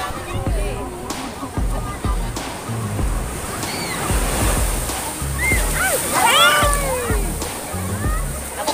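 Sea waves wash and surge onto a shore in Silang, Cavite, a steady roar with splashing swells, under lively talk and shouting from people nearby.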